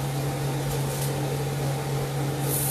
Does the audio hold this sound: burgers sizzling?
yes